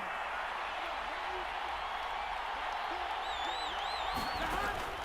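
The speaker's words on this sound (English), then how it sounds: "Crowd getting in it a bit already." Stadium crowd at an NFL game between the Cincinnati Bengals and Los Angeles Rams, a loud, constant roar with scattered whistles and shouts rising above it.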